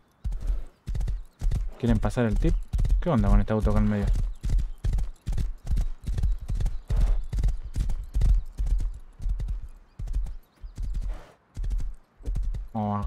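Horse hooves clip-clop at a steady gallop in the survival game Rust, a rhythmic run of thuds that sits under continuous Spanish conversation between players.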